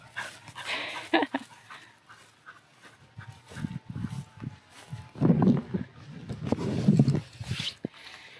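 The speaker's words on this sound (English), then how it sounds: "It's raining, but the spaniel still has to go in the water." A spaniel pants close by outdoors in the rain, quick breathy bursts coming in clusters between quieter gaps, with a few faint scuffs and rustles around it.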